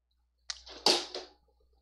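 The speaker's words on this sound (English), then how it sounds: "I had to spritz my cat with some water" A few quick hissing spritzes, three short bursts close together, then quiet.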